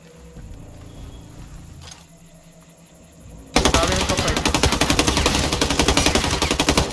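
Automatic weapons fire during a firefight in the game Ghost Recon Breakpoint: quieter sounds and a faint voice give way to a loud, continuous run of rapid gunshots that lasts several seconds.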